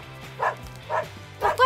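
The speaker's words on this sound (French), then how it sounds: "Pourquoi il aboie comme ça?" A dog barks three times in short, evenly spaced yips, close and fairly loud, the last one rising into a higher whining tone.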